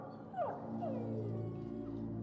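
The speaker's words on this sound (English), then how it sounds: "Put the dog out of its misery or leave the dog be." A dog in the video game Dying Light 2 whimpers, with two high falling whines close together followed by a softer trailing whine over a low game hum.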